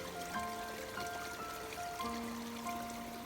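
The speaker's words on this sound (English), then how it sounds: "Little creek." A small mountain creek trickles and babbles near a cabin, a faint steady flow of water with light dribbling tones and no voices.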